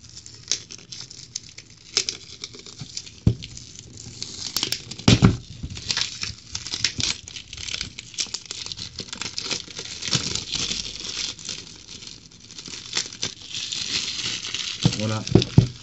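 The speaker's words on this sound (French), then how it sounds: "on va déballer tout de suite avec vous la Autopack Penguin" Packaging for an Autopack Penguin e-cigarette kit is torn open and handled, giving irregular crinkling, rustling and tearing bursts that rise and fall close by throughout.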